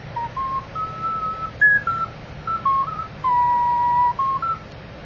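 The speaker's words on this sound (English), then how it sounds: "this is a pendant ocarina in a teardrop shape" Teardrop-shaped pendant ocarina from Songbird, keyed in G, playing a slow, breathy melody of sustained pure tones with small bends and pauses, close and clear over a faint hiss.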